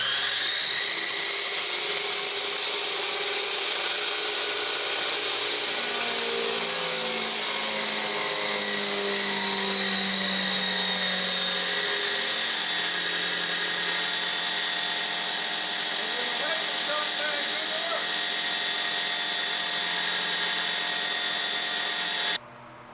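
A Chicago Electric cutoff wheel from Harbor Freight runs steadily for over twenty seconds in a workshop, a loud sustained high-pitched whine with a slowly shifting tone as it cuts steel, then cuts off abruptly at the end.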